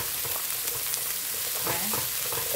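A pot of curry being stirred after a tablespoon of liquid vegetable stock goes in, with steady close sizzling and soft scraping stirs running throughout.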